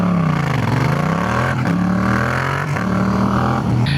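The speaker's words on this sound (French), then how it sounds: "Une MT-07 quand même c'est sympa, surtout pour le bruit" Yamaha MT-07 motorcycle ridden through Lyon, its engine loud and close, rising and falling through several revs and gear changes in a continuous throaty roar.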